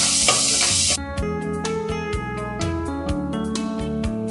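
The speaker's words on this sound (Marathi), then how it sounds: "आलं लसूण पेस्ट परतून घेतल्यानंतर कोलंबी टाकून घेऊया." Prawns frying in a pan with ginger garlic paste and green chilli, a loud steady sizzle that opens bright and hissing, then continues under repeated scraping stirs of a utensil.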